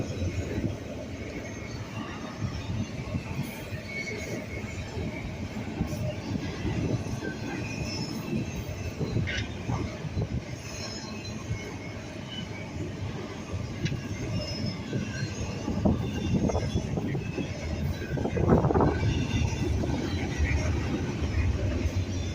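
A freight train rolls steadily past on a line near the former Lackawanna Steel site, its wheels squealing loudly toward the end amid constant rumbling wagon noise.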